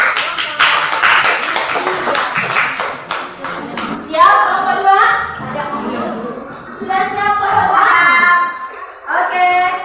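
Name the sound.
group clapping hands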